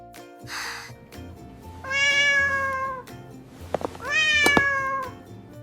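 Two drawn-out cat meows, close and clear, separated by a short pause with a couple of sharp clicks in between.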